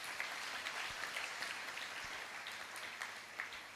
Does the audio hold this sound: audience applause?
yes